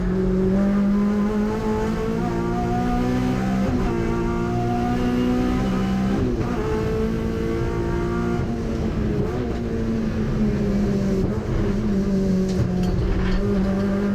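A 750MC Hot Hatch race car at Castle Combe circuit roars loudly on track, its engine note rising and falling through gear changes and corners in a continuous close-up, in-car drone.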